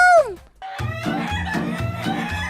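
A chicken gives a short high squawk, then a rapid, chattering, cackling crow that sounds like laughter, repeating in quick bursts.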